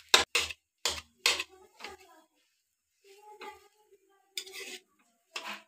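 Cabbage and capsicum are stirred in a cooking pan, with a quick run of sharp utensil clatters against the pan early on, then quieter scraping under a person's talk.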